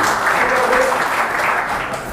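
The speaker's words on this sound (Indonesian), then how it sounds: "tepuk tangan loh teman-teman" Seminar audience applauding steadily, a dense wash of clapping hands that holds throughout, loud and close, with no speech over it.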